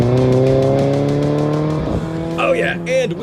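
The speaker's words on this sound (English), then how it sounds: "By the way, hear those car sounds?" Recorded car sounds: a close engine revving with steady rising harmonics, followed by squealing tires in short bursts near the end, loud and unaccompanied.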